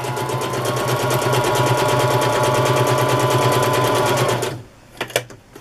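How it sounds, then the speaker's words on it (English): Close, steady sewing machine running zigzag stitches through fabric and rickrack trim, a fast rhythmic whir for about four and a half seconds before stopping, followed by a few faint clicks. "I'm just going to stitch the fabric."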